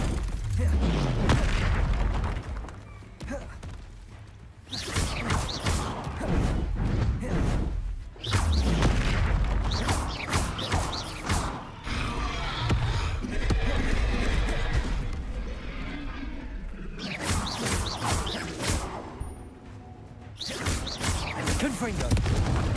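Confringo blasting spell explosions in Hogwarts Legacy on PC, a run of loud booming blasts with crashes and whooshes separated by brief quieter gaps, mixed with spoken voice.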